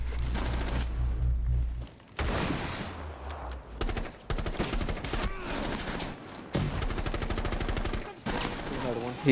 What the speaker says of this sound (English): He's shooting from the top four